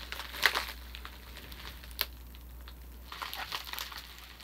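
Plastic mail package of horse tack supplies being opened by hand, with a sharp crinkle early on, a brief tearing snap near the middle and softer rustling toward the end, close and fairly quiet.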